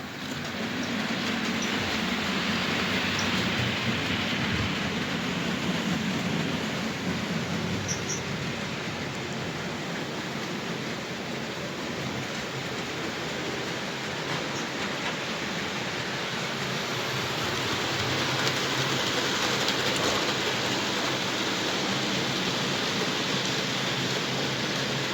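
A small model train carrying two Lima wagons rumbles continuously along its track, a steady whirring hiss that swells and fades slightly as it circles, with no talking.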